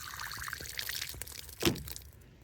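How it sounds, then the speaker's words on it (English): Water pours and splashes into already full rain barrels outdoors after Hurricane Helene in Georgia, a soft continuous trickle with a brief louder gush near the end. "It fills the rain barrels up."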